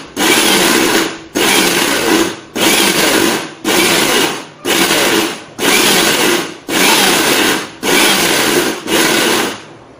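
A kitchen mixer pulsed in repeated short bursts while whipping cream for cake, about eight loud whirring pulses of roughly a second each separated by brief silent gaps, with no talking.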